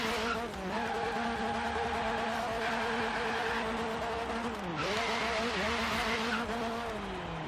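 Meyers Manx dune buggy engine in Forza Horizon 3 revving hard, rising through the revs with pitch dips at a few gear shifts, loud and continuous throughout.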